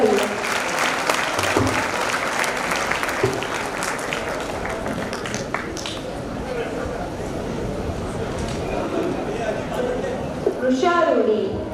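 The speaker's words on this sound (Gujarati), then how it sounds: "જોરદાર તાળીઓથી કલાકારોનું સ્વાગત કરીએ" An audience at a community cultural gathering claps to welcome performers, a dense, continuous patter of many hands. The applause swells at the end, and voices can be heard among the crowd.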